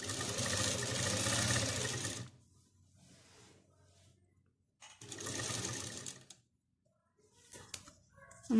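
A sewing machine stitches a kurti in two loud, close bursts of motor whir, each lasting a couple of seconds, with quiet handling noise and short pauses between them.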